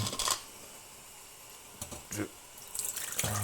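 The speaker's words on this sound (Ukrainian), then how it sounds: "Тепер зливаємо з банки." Water is poured off from a jar of tomatoes with cherry plums, a few short splashing gushes and trickles close by, separated by pauses over a steady room hiss.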